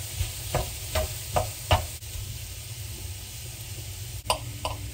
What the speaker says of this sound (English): We're gonna add some rice.